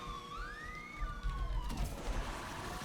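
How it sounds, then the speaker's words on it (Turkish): Police car sirens wail during a chase in the Asphalt 9 Legends racing game, rising and falling tones layered over engine roar and crash noise, loud and close. "5 tane polis arabası ama yine de bizi yakalayamazsınız"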